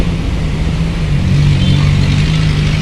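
Gemarang Jaya bus queuing at Bakauheni port, its engine idling in a loud, steady low drone with a constant hum, close by and without talk.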